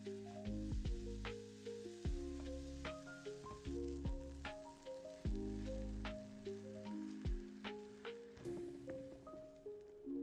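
Stir-fried rice coated in sauce sizzles steadily in a pan over high heat, a soft continuous hiss running beneath louder melodic background music with no talking.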